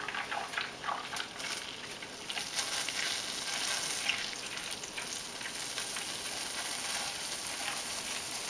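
Hot homemade clarified butter (ghee) sizzles and crackles steadily as it is poured off, a continuous loud frying hiss with no talking.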